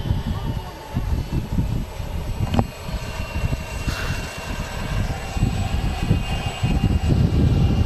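An Emirates A380 taxis at Manchester Airport, a low, rumbling engine drone sitting at a distance beneath intermittent nearby talk and a couple of sharp clicks.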